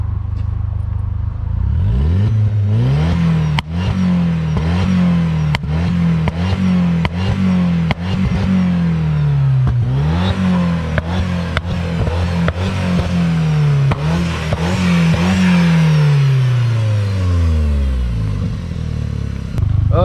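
Audi TT with a tuned 1.8T engine revving repeatedly, loud and close, with rhythmic throttle blips rising and falling, clattering bursts between revs and a final long climb and drop.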